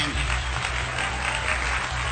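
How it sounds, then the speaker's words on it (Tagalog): An audience at a Filipino talk show applauds, a steady wash of clapping over a low hum, continuous and fairly loud throughout, with no speech over it. "Palakpakan nga natin."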